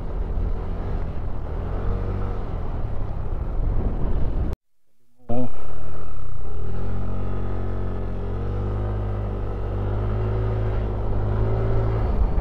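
Road traffic with many cars and vehicles passing, a continuous engine rumble with rising and falling tones that cuts out briefly midway and then resumes, with a voice talking over it.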